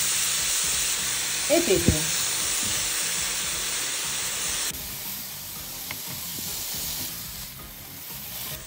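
Swordfish hitting a pan of hot oil with a garlic clove gives a steady, bright sizzle and spitting hiss. It runs throughout, with a few brief clatters early on. A voice speaks briefly, and the frying noise eases slightly partway through.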